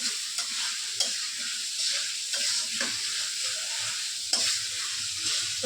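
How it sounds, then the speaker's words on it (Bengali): Vegetables for a turmeric-rich curry sauté in a pan, giving a bright, continuous sizzle close by, broken by occasional clicks and scrapes of stirring. "প্রথমে একটু ভালো করে কষাই নিতেছে সময় নিয়ে"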